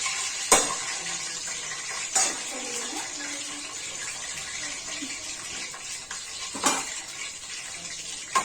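Bay leaf, cashews, cloves and cardamom fry in hot oil with a soft continuous sizzle and a few sharp clinks of a utensil against the pan.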